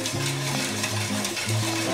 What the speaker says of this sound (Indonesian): Yuk kita aduk sampai rata.